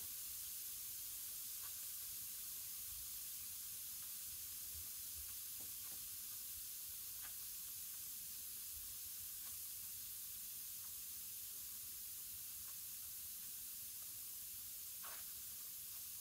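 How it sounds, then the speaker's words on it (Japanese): A bath ball fizzing and dissolving in bathwater, a faint steady hiss with scattered tiny pops and crackles of bursting bubbles, continuous and close with no talk. "泡の音気持ちいい。"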